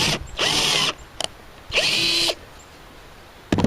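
Two short bursts of a handheld power drill boring small holes at close range, each about half a second, separated by quiet pauses with brief mechanical clicks.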